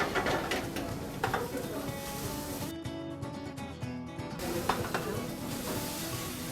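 Coriander seed, chili and garlic sizzle in hot oil in a pan for karai chicken at a restaurant kitchen, a soft continuous frying hiss with scattered stirring scrapes and clinks, fairly quiet.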